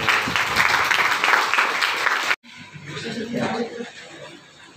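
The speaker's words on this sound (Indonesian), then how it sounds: "Tepuk tangan." Students applaud after a class presentation on global warming with a dense burst of clapping and some chuckling; it cuts off abruptly and gives way to murmured classroom chatter and voices.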